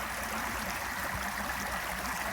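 Water from a gold prospecting sluice box runs in a steady, broadband rush and gurgle, like a small stream, close and continuous with no talk.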